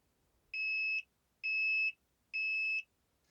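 A Toptes CT-580 carbon monoxide detector beeps through its power-up self-test, giving three clear, evenly spaced electronic tones of about half a second each, near and alone against a quiet background.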